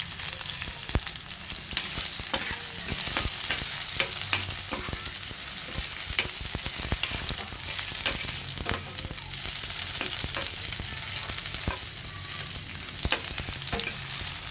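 Onions sautéing in oil for sinigang na bangus sizzle steadily up close, broken by frequent sharp clicks and scrapes of a spatula stirring the pan; no one speaks.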